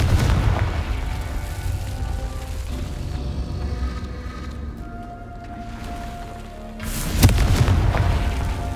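Confringo fire spell blast in the Hogwarts Legacy video game, a loud booming burst with rumbling low end that fades, then a second sharp blast near the end, with no talk.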